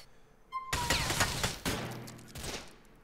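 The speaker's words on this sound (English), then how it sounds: "Run while you're being shot at, Niko!" Gunfire in the Grand Theft Auto IV video game, a close, loud volley of rapid shots that breaks out suddenly after near quiet, with a second burst about a second later.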